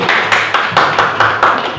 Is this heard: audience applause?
yes